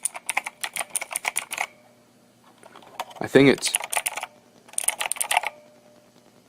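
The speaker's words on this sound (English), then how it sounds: "if you hit on the keyboard, it's like a ringing noise almost" Keystrokes clatter in quick bursts on an EagleTec KG010 mechanical gaming keyboard, with a faint springy ring after hits; a voice briefly speaks between two typing runs.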